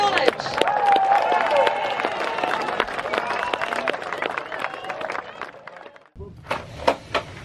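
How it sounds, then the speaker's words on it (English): A crowd claps for rowing champions from St John's College in a bright, scattered burst over voices and cheering; it breaks off near the six-second mark, then a few sharp claps follow. "Big round of applause for our champions"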